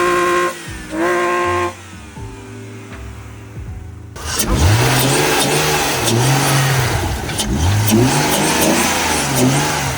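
A BMW car engine starts and revs hard, loud and close, with repeated rising and falling throttle blips after some quieter sounds at the beginning.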